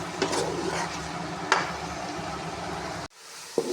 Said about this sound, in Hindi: इसके अंदर ये प्याज जाएंगे, इसको मैं हल्का सा जो है ना ब्राउन करूँगी प्याज़ों को।